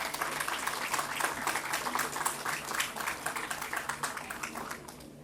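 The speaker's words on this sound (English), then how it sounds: "let's express a gratitude for Raghavendra Rao sir from a big round of applause" A big round of audience applause at a cardio yoga summit, a dense, steady clatter of many hands clapping throughout, fairly close and with no talk over it.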